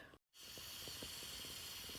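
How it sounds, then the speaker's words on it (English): Steam escaping from an Instant Pot pressure release valve makes a steady, loud, close hiss. A brief drop-out comes near the start, then the rush continues unbroken. "The last of the steam now escaping."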